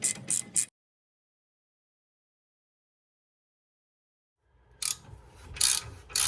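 Ratchet with an 18 mm socket loosening control arm bolts on an Audi S3 8V, a short burst of clicking at the start, then silence, then several louder clicking bursts close by.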